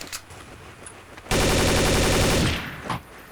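Automatic rifle fire from the Counter-Strike Source video game bursts out in a single sustained rapid volley lasting about a second, loud and close, after quieter ambient game noise.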